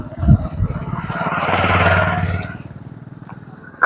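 A motorcycle on a village road among farm fields, its engine swelling as it passes close by and then fading, with clattering and a voice in the background.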